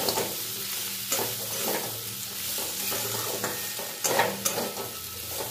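Ground spice mix being stirred into a sizzling vegetable curry in a pan, a steady close fry hiss broken by scraping spoon strokes, with a louder clatter of stirring near the end.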